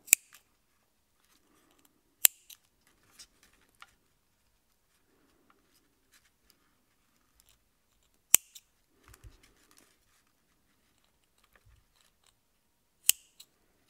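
Scissors snip macramé thread ends on a bracelet in a few sharp, isolated cuts spread out over a quiet stretch, close to the listener, with faint handling rustles between them.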